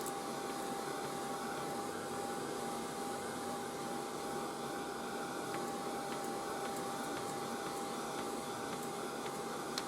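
A heat gun blows steadily while heating a large rubber embossing stamp, a continuous whirring roar with a faint high whine, unbroken and constant at moderate level.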